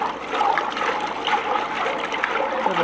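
Water poured into a cooking pot in a home kitchen while rice is being made, a steady, loud, close rushing pour lasting several seconds with no talk.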